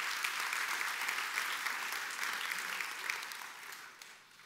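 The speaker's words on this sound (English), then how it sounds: "give the Lord a hand clap of praise" A church congregation claps in praise, dense steady applause filling the room at moderate distance before gradually fading out.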